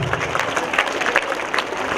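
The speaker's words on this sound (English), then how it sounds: "Let us give them a big round of applause" Audience applauding students after a school Christmas program, a steady patter of clapping from a crowd in a hall, fairly loud and continuous with no voices over it.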